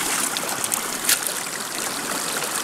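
Water rushes in a good strong flow through a sluice box lined with Gold Hog mats, a steady, fairly loud burbling stream with small splashy spurts and no voices.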